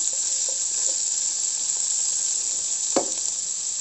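Bitter gourd and potato pieces frying in oil, a bright steady close sizzle with a few soft stirring knocks and one sharper clack near the end.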